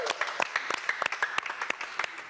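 Quick, scattered clapping from a studio audience on a Portuguese-language afternoon TV show, moderately faint, with sharp irregular claps over a light background of voices.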